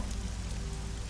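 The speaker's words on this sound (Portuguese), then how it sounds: "Tá chovendo." Rain falls as a soft, steady patter with a low background hum, quiet and even throughout, with no voices.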